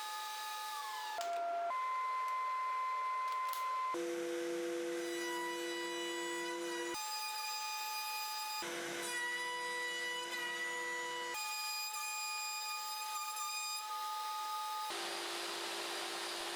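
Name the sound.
saw cutting MDF with a dust hood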